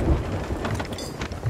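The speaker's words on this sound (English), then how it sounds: "There's so much rain." Heavy rain pours with low thunder rumbling in the pirate video game Sea of Thieves, a dense continuous wash of drops with deep bursts underneath.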